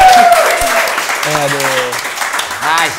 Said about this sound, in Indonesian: tepuk tangan dulu buat Kakak Raim